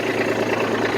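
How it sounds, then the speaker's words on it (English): A tractor towing a Land Pride RCR1260 rotary mower drives slowly uphill, its engine a steady, close, low rumbling drone with no breaks. "I'm going to try to jump on the tractor here and drive ahead slowly"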